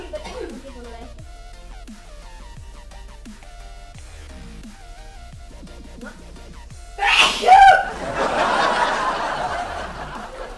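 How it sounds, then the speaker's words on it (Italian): A person sneezes once, sharply and close, after a stretch of quiet background music, followed by a breathy noisy aftermath. "quell'altro invece che continua a spazzarsi il naso e starnutire, tossire"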